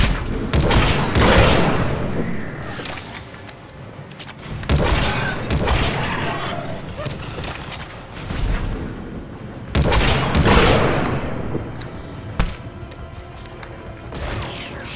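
Gunfire from a Mass Effect battle fills the scene with repeated loud bursts and crashes in rapid clusters, with a brief lull before another volley and a sharp final crack.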